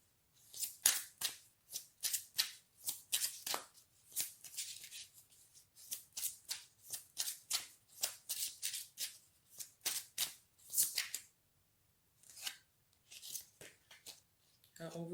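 Tarot-style crystal cards are shuffled in quick rhythmic bursts of crisp riffling and flicking, close and fairly quiet, with short pauses between runs and a card drawn near the end.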